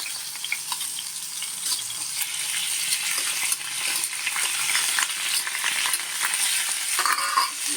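Prawns frying in hot oil give off a steady, loud sizzle, with crackling all the way through and a slight splash of liquid toward the end. No one speaks.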